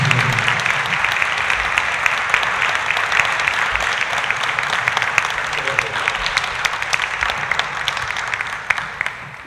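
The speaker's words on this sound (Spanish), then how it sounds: "Le pido a todos un aplauso para el maestro" Loud, dense audience applause at an evening poetry reading in La Milarca honoring a poet from Ávila, steady and continuous for several seconds with no pauses.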